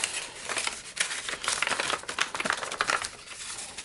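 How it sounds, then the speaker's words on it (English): Paper is opened and inside-reverse folded for a large modular origami piece, producing soft continuous crinkling and rustling with faint crisp creasing, close and quiet, no talking. "I'm just gonna open it and inside reverse fold it."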